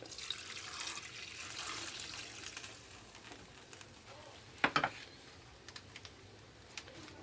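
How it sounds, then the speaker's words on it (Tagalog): Water poured into a cooking pot of pork pata for a Filipino pochero, a soft steady hiss and splash that runs for several seconds, followed by a few brief clinks and knocks. "lagyan natin ng tubig"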